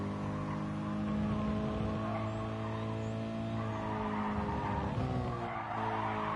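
Car tyres skid and squeal as a Nissan N200-class race car slides through a corner at the Autopolis circuit in Gran Turismo Sport, a sustained engine drone and scrub running loud and close throughout with no pause.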